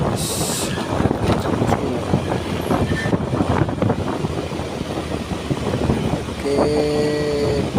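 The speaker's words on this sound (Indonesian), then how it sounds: "langsung digas saja bosku sama trailernya" Convoy of trailer trucks accelerating through a tight S-bend in the Kedabuhan area: a loud, close, continuous heavy engine roar and rumble throughout, with someone speaking briefly over it.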